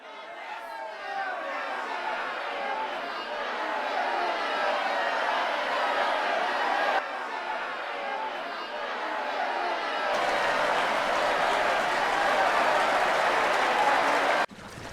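An angry mob of many voices shouts and murmurs in a dense, sustained roar, shifting in layers and growing heavier and louder toward the end before cutting off.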